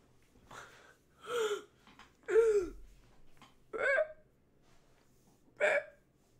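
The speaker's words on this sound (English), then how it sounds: "Burp." A streamer lets out several short throaty burps during a Roblox session, five separate gulping bursts spaced about a second apart, close to the microphone and moderately loud.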